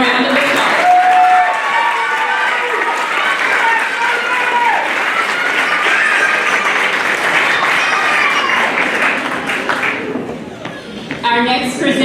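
Crowd applause for seventh-grade students at a middle school academic awards ceremony, steady dense clapping throughout, with voices and cheers mixed in, fading briefly near the end before a speaking voice returns.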